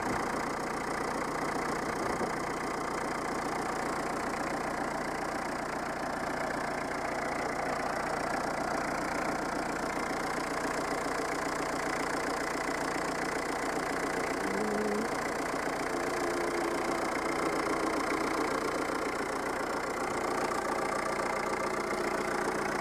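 An old Peugeot 309 diesel engine idles with a continuous, even clatter and hum, holding steady and close for the full length with no talking.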